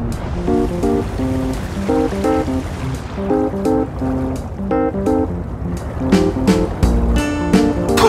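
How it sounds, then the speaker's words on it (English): A tank drives through water on the Erlenberg map in World of Tanks, giving continuous splashing and churning sounds mixed with rhythmic tonal game music. "See, that's how you drive a tank in water."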